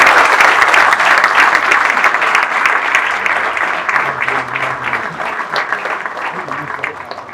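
Audience applause and cheering for former footballer Jermain Defoe at the Premier League headquarters, a loud, dense wash of clapping from a large crowd that fades gradually over several seconds.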